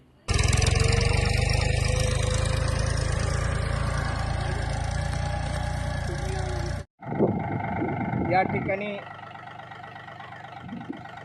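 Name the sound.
tractor engine running over a cotton field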